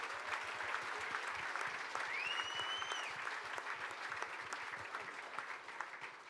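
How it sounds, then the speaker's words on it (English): Steady applause from an audience at an IndyCar legends Q&A event at a museum in Los Angeles, a quiet, continuous patter of many hands clapping at moderate distance with a brief whistle. "he deserves a huge round of applause for Super Tex, AJ Foyt."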